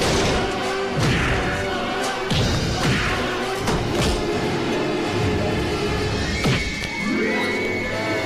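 Someone is beaten and slammed into walls, a dense run of heavy thuds, crashes and whacks over a loud, busy background.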